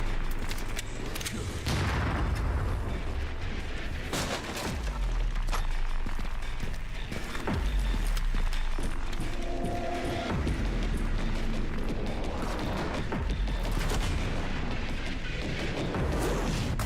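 Rifle fire in a video game amid dense, booming combat, with repeated sharp shots and heavy explosive thuds over a continuous loud roar.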